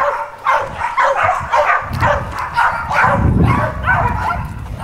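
A pit bull barks in short repeated yips and bow-wows, close and fairly loud, the barks coming in a steady run across the whole stretch.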